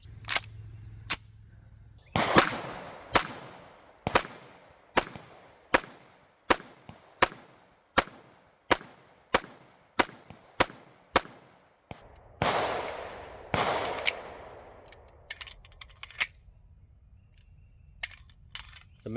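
Rock Island 45 Tac Ultra pistol fired at targets: about two dozen sharp, loud shots in quick irregular strings with short pauses between groups, ringing echoes trailing each report, no talk.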